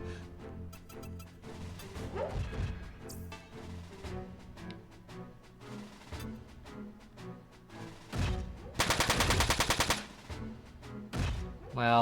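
Mech weapon fire in Front Mission 4, several bursts of gunfire over background game music, with a sustained loud rattling burst near the end, then a final blast.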